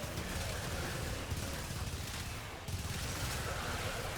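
Explosions and gunfire from the shooter game Warframe rumble in a dense, continuous wash of low blasts and crackling noise, moderately loud with a brief dip before resuming.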